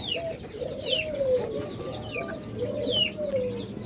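Pet doves kept on a rooftop, with soft repeated coos and chirping calls rising and falling over a low background murmur, moderately close and with no one speaking.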